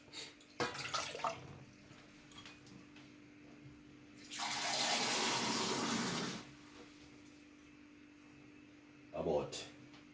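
Water runs steadily from a tap into a pot for about two seconds in the middle, with brief clatters before and after and a faint hum underneath.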